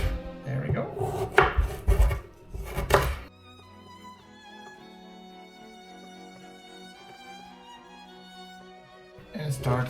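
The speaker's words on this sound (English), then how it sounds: "And start dicing." Vegetables diced with a knife for a Transylvanian vegetarian soup with tarragon and potatoes, a quick run of close chopping knocks on a board at the start, then quiet with a musical tone, chopping resuming briefly at the end.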